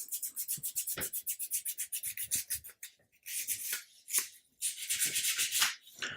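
Sandpaper rubs back and forth across the hull of an Amati 1/80 Endeavour wooden model ship, a fast rhythmic series of rasping strokes with short pauses between bursts, close and clear.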